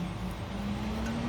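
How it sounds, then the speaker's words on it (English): A garbage and recycling truck drives past outside, a steady low engine drone with a faint rising tone, heard at moderate distance without talk. "garbage truck, recycling truck going by"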